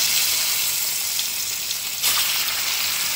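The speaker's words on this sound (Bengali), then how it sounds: "সেই কড়াইয়ে তেল রয়ে গেছে, আমি সাদা তেলেই ভাজছি" Paneer shallow-frying in white oil left in a kadai from earlier brinjal frying, a steady loud sizzle and crackle filling the whole stretch with no talk.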